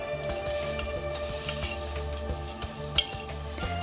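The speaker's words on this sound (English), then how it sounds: "fry the dried shrimp without oil to get rid of a smell" Dried shrimp dry-fry in a pan without oil, giving a quiet, steady sizzle under repeated light scraping and clinking of a utensil as they are stirred.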